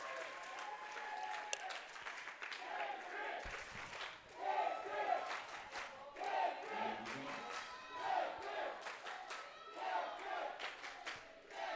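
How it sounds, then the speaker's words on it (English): Crowd cheering, whooping and applause at a ballroom dance competition after a Viennese waltz, a continuous dense roar of many voices with yells rising and falling throughout. "The crowd's going crazy."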